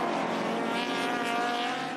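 An old-school race car running triple Weber carburettors at Hidden Valley, its engine a sustained, even drone with a slight rising pitch, heard at a moderate distance and with no voices.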